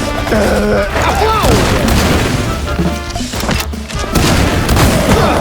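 Loud booming gunfire and explosions rumble continuously in a chaotic battle in the video game MOUSE: P.I. for Hire, with voices shouting over the din.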